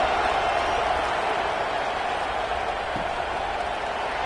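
Steady roar of a football crowd cheering in a stadium just before kickoff, a continuous loud wash of massed voices with no clear breaks.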